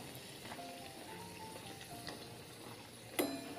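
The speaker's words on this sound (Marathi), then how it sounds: "दुसऱ्या बाजूनही चांगल्या प्रकारे तळून घेणार आहोत" Puris frying in hot oil make a faint, steady sizzle with soft crackles, and a sharp clink lands near the end.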